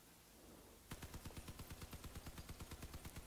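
Vehicle-mounted weapons firing in the combat game Crossout with their radiators removed, a steady rhythmic series of sharp repeated shots starting after a quiet moment and continuing evenly to the end.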